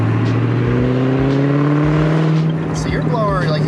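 Stock supercharged 2003-04 Ford Mustang Cobra with loud exhaust, its blower whine and engine note droning steadily and echoing off nearby surfaces, rising in pitch toward the end, with people talking over it.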